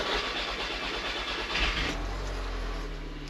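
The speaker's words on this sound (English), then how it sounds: "let's start it up and make sure we've got no leaks" An Audi TT S Mk2 (8J) with a manual gearbox starts after a full service including a new fuel filter: a hesitant cranking whir that catches, then settles into a steady low idle, close and alone.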